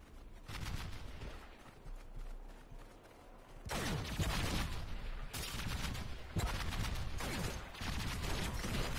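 Cannon and gunfire boom repeatedly in the shooter game Running with Rifles during a push across a bridge, heavy loud blasts coming in quick bursts one after another with no talking over them.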